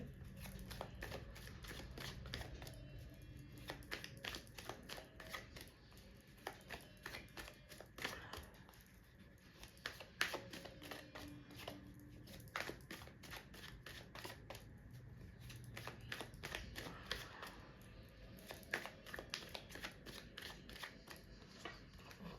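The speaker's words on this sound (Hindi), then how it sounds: "जब तक मैं शफल कर रही हूँ" Tarot cards are shuffled in a quiet room, faint rapid papery flicks and riffles coming in repeated bursts with brief pauses between them.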